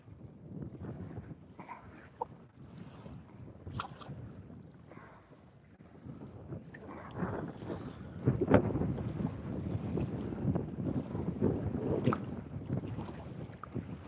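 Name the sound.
wind blowing outdoors while fishing from a boat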